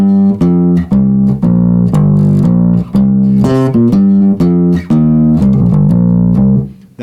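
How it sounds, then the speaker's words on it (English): Bass guitar line played with both hands muting the unused strings, clean plucked notes in a steady repeating pattern, loud and close, with short gaps where each note is stopped. "Now when I use both hands to mute the strings,"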